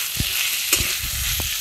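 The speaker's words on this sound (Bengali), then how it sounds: "টমেটোটা যতক্ষণ না গলে যায় আমি এটা ভাজতে থাকবো।" A chopped tomato fries with spices in a pan, a steady hissing sizzle with a few soft scrapes and clinks from stirring, close and moderately loud.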